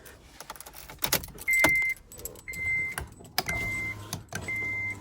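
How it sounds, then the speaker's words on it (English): Keys to a rebuilt, formerly wrecked Honda Civic jangle close by in several short shakes, broken up by steady electric-motor whirs from the car's power windows. "Here's the keys."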